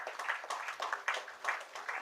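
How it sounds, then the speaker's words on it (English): Scattered applause from a small crowd, light and uneven clapping that swells in a few soft waves, heard from some distance. "A more energetic round of applause, please from backside."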